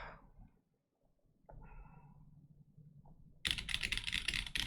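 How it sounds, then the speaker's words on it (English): A computer keyboard with glossy black keycaps is typed on. After a near-silent start comes quiet handling noise, then a close, loud burst of rapid clattering keystrokes. "It sounds like a keyboard."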